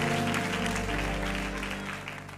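A church congregation applauds and cheers in acclaim of Jesus during a service, a dense, sustained wash of clapping over sustained music, holding steady before easing off slightly toward the end.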